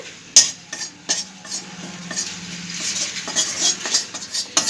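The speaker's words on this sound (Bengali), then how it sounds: "বেসনটাকে আমি শুকনো কড়াইয়ে ভেজে নিচ্ছি হালকা করে" A spatula scrapes and stirs gram flour (besan) as it dry-roasts in a dry wok, giving irregular close scraping strokes and light clinks over a soft background hiss, with no voices.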